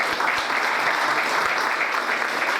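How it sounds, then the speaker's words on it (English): Audience applause for an inaugural chapter president at an AREAA Atlanta chapter installation event, steady dense clapping from a room of people, sustained and even throughout. "So big round of applause for our inaugural president."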